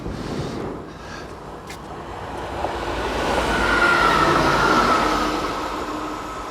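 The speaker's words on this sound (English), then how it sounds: "And here comes a train." Regional two-car train passing along a seaside coastal line, a rumbling approach that swells to a loud rolling pass with a faint wheel squeal, then begins to fade.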